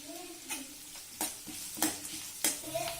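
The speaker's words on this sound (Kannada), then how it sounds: "ಎಲ್ಲನ ಒಂದು 2 ನಿಮಿಷ ಈರುಳ್ಳಿ ಕೆಂಪಾಗೋವರೆಗೂ ಬಾಡಿಸ್ಕೋಬೇಕು." Onions with curry leaves fry in a pan for mango rice, a steady soft sizzle under several sharp stir or utensil scrapes spaced about every half second to second, close and moderately quiet, with no talking.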